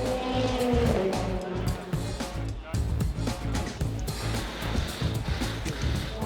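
A Cupra touring car runs hard around a BTCC race track. The engine roars loud and close with constant revving and gear changes, and tires squeal now and then, while a voice talks over it.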